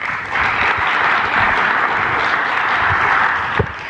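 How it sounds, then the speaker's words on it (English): A large audience at a group business event claps in sustained, loud applause, a dense even wash of hand claps lasting several seconds with a faint crowd murmur underneath. "let me hear a big round of applause"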